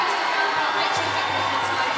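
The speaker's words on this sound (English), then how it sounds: "and they are applauding their team" Crowd noise from netball supporters applauding Zimbabwe's Gems as the players walk off court, a continuous broad wash of cheering and clapping at moderate distance with occasional louder whoops rising above it.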